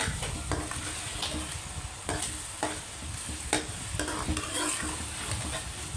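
Chicken qeema with oil, dry coriander and chilli frying in a pan while being stirred, a steady close sizzle broken by regular scraping strokes of the spoon, with no talking.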